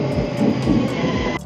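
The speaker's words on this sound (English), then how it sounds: "That's the train to Leuven, which I've checked is the other direction." A train to Leuven runs along a Brussels station platform, giving a loud, steady rolling rumble with rhythmic wheel clicks and a faint metallic squeal close by.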